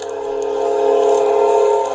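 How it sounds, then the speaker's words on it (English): A train horn blows loud and close, one sustained chordal blast swelling slightly and holding steady for the full two seconds. "train blowing its horn several times"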